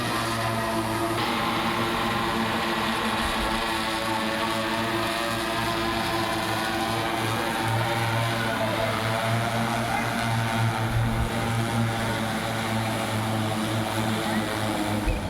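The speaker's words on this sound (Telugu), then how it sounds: "డ్రోన్ పొజిషన్ అక్కడే ఉంటుంది కానీ స్పిన్ అవుతూ ఉంటుంది." A constant high-pitched propeller whine from a hovering drone, close and unbroken, with a steady motor drone underneath and no speech.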